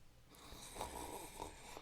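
A deep, throaty snore rumbles faintly through a short stretch, one drawn-out rasping breath with a slight wheeze on top.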